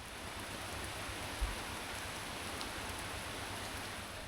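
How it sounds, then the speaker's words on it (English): Heavy rain pours down at a Hmong hill tribe lodge in the mountains of Southeast Asia, a dense, steady hiss of rainfall on surfaces with no talking and one faint low thump. "the skies have opened up and we're back in rainy season"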